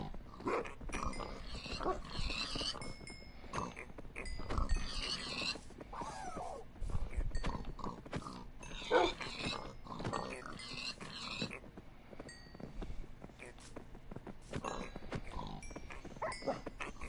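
Minecraft pigs grunting in the video game, with repeated oinks tangled among wolf barks and other farm animal calls, a busy, irregular cluster of close animal noises throughout.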